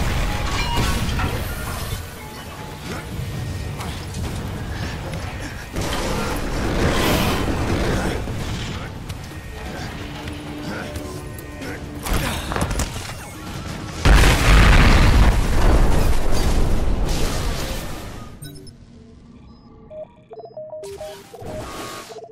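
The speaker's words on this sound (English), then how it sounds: "I predict an imminent detonation within the gravity core generators." Massive booming explosions tear through the gravity core generators in the video game Bulletstorm, a long, loud roar of rumbling blasts and crashing debris that swells near the end before cutting off abruptly.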